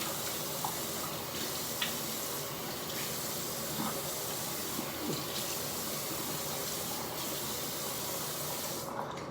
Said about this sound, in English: So I'm just wetting my face right now.